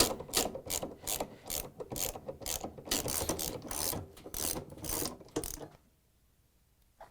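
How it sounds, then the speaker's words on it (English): A 13mm socket wrench ratchets out counterweight bolts on a Samsung washing machine, a rapid series of close, loud clicking strokes in bursts before it stops and the last second falls quiet. "Using the 13mm socket wrench, take out the bolts that hold the counterweights and remove the weights."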